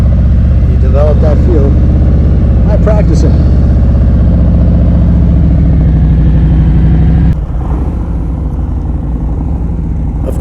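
A motorcycle creeping at slow speed with the clutch slipped in the friction zone, its close, steady engine drone rumbling under a rider's talk before dropping off sharply near the end.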